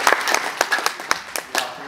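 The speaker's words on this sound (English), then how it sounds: "Give him a round of applause," A small conference audience in Uganda claps sparsely, with separate sharp hand claps at an uneven pace for a couple of seconds.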